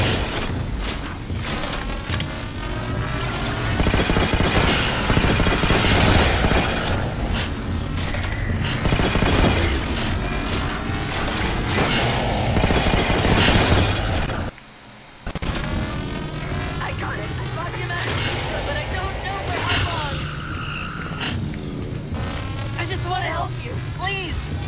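Gunfire in Halo: The Master Chief Collection: dense, continuous loud bursts of automatic fire and booms with a brief cut near the middle, voices talking over the action.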